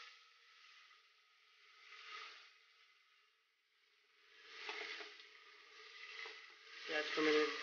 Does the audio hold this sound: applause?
no